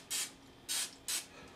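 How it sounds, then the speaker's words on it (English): Three short bursts of olive oil spray hiss onto a roasting chicken, evenly spaced and close, with quiet pauses between them. "And again, some olive oil spray."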